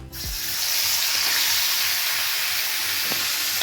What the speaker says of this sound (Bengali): ওই ঘিটা গরম হয়ে গেলেই তারপরে আমি ওই মাংসটা দিয়ে দেব, যে মাংসটা আমার আগে থেকে ম্যারিনেট করা ছিল